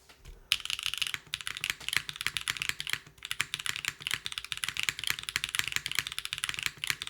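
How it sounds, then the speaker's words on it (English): Fast, crisp clacking from a custom-built System_65 mechanical computer keyboard being typed on, the keystrokes coming in quick bursts with brief pauses between them, close and alone. "It's a very nice sounding keyboard."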